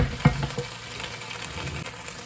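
Curry sauce sizzles in a pan while being stirred, with a soft steady fry, a few clinks and scrapes of the spoon near the start, and no voices.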